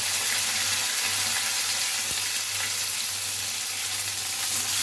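Curry leaves, green chillies and urad dal fry in hot oil in a pan, giving off a steady, dense sizzle and crackle with a single soft knock partway through and no voices.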